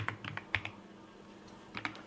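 Several light keystrokes on a computer keyboard tap out a short word in two quick bursts, with a pause between them, close and fairly quiet.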